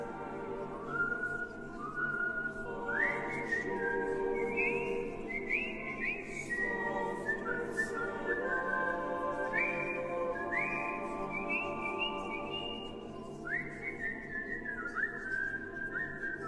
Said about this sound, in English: the whistling resonating round in your mind